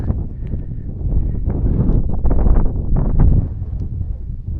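Wind sweeps over the 3069 m summit of Kızlar Sivrisi in the Western Taurus mountains, a loud, steady gusting rush that buffets the microphone and swells and eases without pause.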